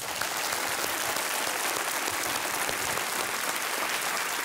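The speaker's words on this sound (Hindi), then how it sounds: "तालियों के साथ उनका अभिनंदन किया जाए।" Studio audience at the Kaun Banega Crorepati quiz show applauding a returning contestant, a dense, even wash of clapping that holds steady throughout, fairly loud and close with no voices over it.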